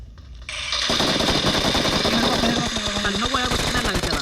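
Rapid automatic gunfire in the mobile battle royale game BGMI rattles in a dense burst that goes on for about four seconds, with a player's voice talking over the shots.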